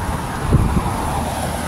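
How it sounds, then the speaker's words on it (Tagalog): Steady typhoon wind rumbles against the microphone under dark, thundering clouds, with a low, continuous roar and a couple of brief gusty bumps midway. "Ngayon mahangin."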